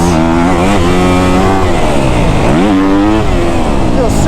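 Kawasaki KX250F dirt bike engine revs up and down, loud and close, with rising and falling pitch sweeps as it is ridden and strung out through the gears, over steady wind noise.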